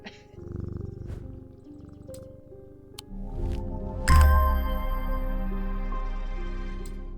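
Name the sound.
cat purring, from video game Strange Antiquities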